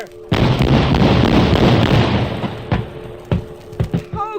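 A loud blast rumbles out in a radio drama, followed by a few sharper pops and thuds that trail off, with faint electronic beeps near the end.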